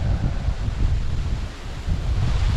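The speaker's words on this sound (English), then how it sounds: "Still super windy." Strong wind gusts buffet the microphone beside a fast-flowing, choppy river with whitecaps, a loud steady roar with low rumbling surges and no voices.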